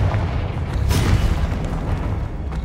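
Confringo blasting spell going off in Hogwarts Legacy, a loud booming explosion with a sharp burst near the middle, over a continuous rumbling roar that fills the short moment.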